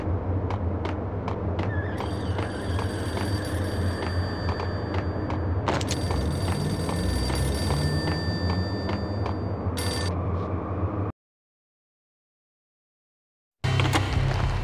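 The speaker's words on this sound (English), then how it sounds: "The payphone started to ring." A payphone ringing in the video game Max Payne, a repeated electronic bell ring over a low rumbling game background, continuing several seconds before a sudden silence and then the ambience returning.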